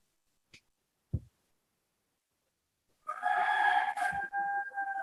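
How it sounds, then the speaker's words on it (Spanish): A rooster crows loudly and close by, a long harmonic call that fills the last two seconds, after a couple of brief knocks in near silence. "Hasta el gallo ya empezó a sonar."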